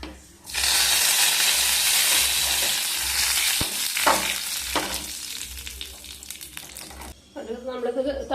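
Mustard seeds hit hot coconut oil while tempering onion theeyal, bursting into a loud, dense sizzle that fades into scattered pops and crackles; a voice speaks briefly near the end.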